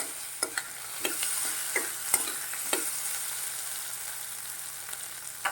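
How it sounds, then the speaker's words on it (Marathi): Spices sautéed on a low gas flame for sabudana masala khichdi, a soft steady sizzle broken by spatula scrapes and taps against the pan every second or so, close and unaccompanied by voices. "तर आता हे 2 मिनिट आपण परतून घेऊया. बारीक गॅसवरती परतून घेऊया."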